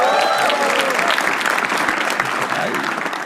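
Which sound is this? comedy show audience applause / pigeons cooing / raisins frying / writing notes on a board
comedy show audience applause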